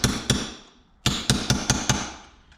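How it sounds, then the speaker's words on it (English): A hammer drives a small chisel against the lock nuts of a junk YFZ450 engine during teardown, two sharp metallic blows, a short pause, then a quick run of five ringing strikes, close and loud. "you want to take a little chisel to get these lock nuts down"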